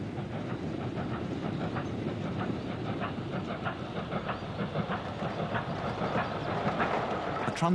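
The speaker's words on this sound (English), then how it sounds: "An empty coal train heads eastward, meeting a black 5 hauling a mixed freight." A steam locomotive hauling a freight train rumbles steadily past nearby, with a rhythmic clatter of wheels and a broad hiss filling the background throughout.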